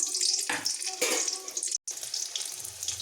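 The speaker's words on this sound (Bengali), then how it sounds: "কড়া হিট হয়ে গেছে আমি এখানে কিছুটা কাঁচা লঙ্কা নিয়েছি এগুলোকে ছেড়ে দিলাম" Green chillies dropped into hot oil in a kadai give a steady close hissing sizzle that swells in bursts and cuts out for an instant midway.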